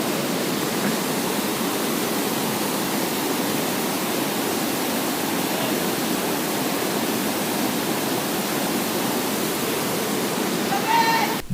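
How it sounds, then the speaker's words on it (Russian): The Ditumaba waterfall near Baler in the Philippines, a powerful but not very tall fall, pours with a constant, even roar of rushing water that stays loud and close throughout. "Водопад не такой высокий, как в Банауи, но более мощный"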